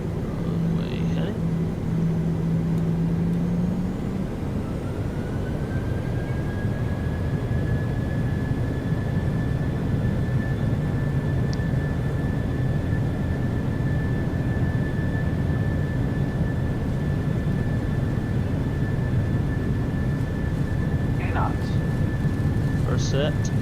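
Boeing 737 engines at takeoff from a flight simulator soundpack give a steady, loud, continuous roar with a rising whine that settles into a sustained tone, filling the whole stretch without break.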